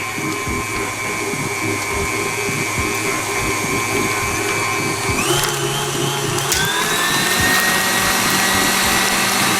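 Electric mixer whirring steadily as it beats powdered sugar into a chocolate Nutella s'mores torte filling, a continuous close drone whose pitch shifts a couple of times, with no talking.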